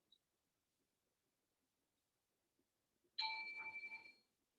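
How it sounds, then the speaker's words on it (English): A mindfulness bell rings once after near silence, a clear sustained metallic tone with a gentle wobble that decays over about a second. "From hearing the mindfulness bell sound, check back in with your breath."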